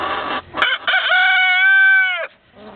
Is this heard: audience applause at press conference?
no